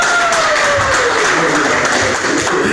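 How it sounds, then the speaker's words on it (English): People at a business mixer at Sankofa Kitchen & Bar give a round of applause, a loud, continuous clapping across the room with a faint tone sliding underneath. "Let's give a round of applause."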